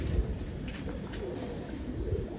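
Fulsira pigeon in a breeding loft cooing, a few soft low coos close by against a quiet background hiss, no talking.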